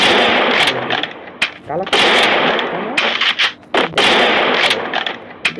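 Bursts of rapid automatic gunfire from a video game gun, loud and close, come in repeated strings with short gaps, and a voice speaks between them.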